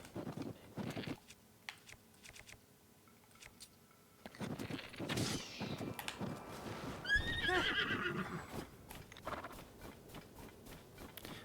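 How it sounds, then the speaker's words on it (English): The golden horse whinnies in the game Zelda: Tears of the Kingdom, with hoof clip-clops, scattered clicks and background effects around it. "Hey, that's the golden horse."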